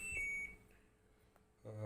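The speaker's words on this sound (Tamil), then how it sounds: "அடுத்த செகண்ட் பீப் சவுண்ட் கேட்குது." A washing machine with a dE error and a drum that will not spin gives a short, high electronic beep, followed by quieter machine sounds.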